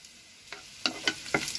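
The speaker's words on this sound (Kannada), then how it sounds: "ಈಗ ಸಾರನ್ನ ಇಳಿಸ್ಕೊಂಡು ನೋಡಿ, ಒಗ್ಗರಣೆ ಮಾಡ್ತಾ ಇದ್ದೀನಿ ಕಾಳಿಗೋಸ್ಕರ." A quiet oil tempering of mustard seeds, urad dal, curry leaves, dried red chilli and onion hisses softly while three or four quick spoon stirs scrape through it in a brief burst.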